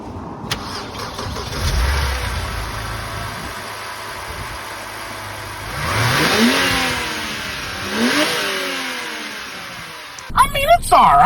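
A 2000s BMW 325i M Sport E90 with its stock intake is revved a few times from idle, each rise and fall of engine pitch clear and close, with a person speaking briefly over the sound.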